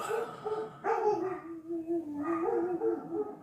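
Dogs bark and whine indoors at fairly close range, with drawn-out, yelping cries that rise and fall across a few seconds without pause.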